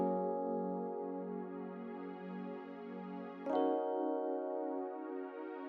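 A synth melody made with the Purity plugin plays sustained, harmonically rich tones with a soft attack, changing note partway through, alone and fairly quiet.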